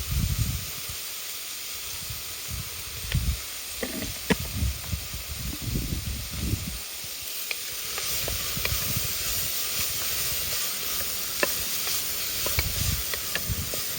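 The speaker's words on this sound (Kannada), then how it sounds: "ಈರುಳ್ಳಿ ಚೆನ್ನಾಗಿ ಫ್ರೈ ಆಗೋದಕ್ಕೋಸ್ಕರ ನಾನು ಸ್ವಲ್ಪ ಸಾಲ್ಟ್ ಹಾಕ್ತಾಯಿದ್ದೀನಿ" Chopped onions fry in a pan after salt goes in, a steady broadband sizzle and hiss running throughout with scattered stirring scrapes and low clunks, close and fairly even.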